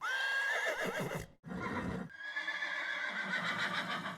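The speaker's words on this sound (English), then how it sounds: "search for a horse neigh" A horse neighs loudly, a long whinny with a shaky, descending pitch, followed by a brief break and a second drawn-out whinny up close.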